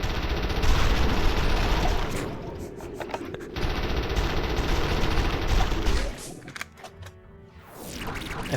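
Gunfire in a sci-fi combat game, rapid loud machine-gun bursts that fire steadily for several seconds, drop away briefly, then resume.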